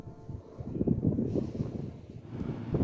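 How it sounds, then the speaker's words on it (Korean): Strong gale on the winter Seonjaryeong ridge of the Baekdudaegan buffets the microphone in low, surging gusts that swell and ease over a few seconds, rough and close with no talk. "선자령의 명성답게 선자령에 가까워질수록 엄청난 강풍이 불고 있습니다"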